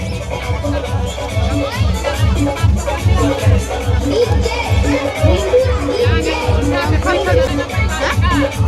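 A loud, dense crowd at a packed wedding fills the air with continuous babble and occasional children's shouts and cheers, close and without pause.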